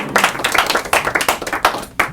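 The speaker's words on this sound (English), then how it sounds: "Not everybody's clapping." Audience clapping at a close-up magic show, a small group's uneven, sparse claps in quick bursts, close and fairly loud, with no talking over them.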